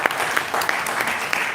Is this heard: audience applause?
yes